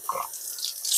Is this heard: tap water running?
yes